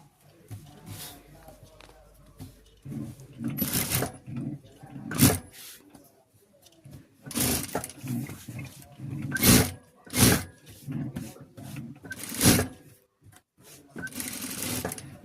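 Sewing machine stitching embroidered blouse fabric, running in short bursts of rapid whirring separated by pauses and light handling noises, close and fairly loud.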